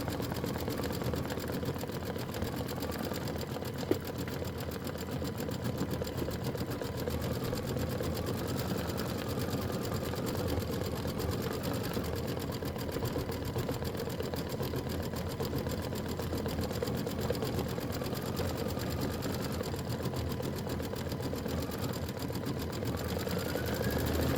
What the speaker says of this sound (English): I'm going to do 2 rows of top stitching on either side